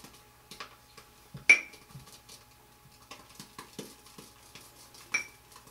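A shaving brush swirled through soap in a bowl, skimming the top of the lather, gives soft scattered ticks and taps, with two sharper ringing clinks where the brush knocks the bowl.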